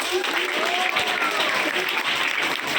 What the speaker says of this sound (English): give a round of applause for it